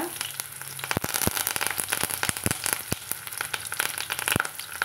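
Curry leaves and chunky-cut vegetables frying in oil, a dense continuous sizzle with scattered sharp pops and crackles throughout.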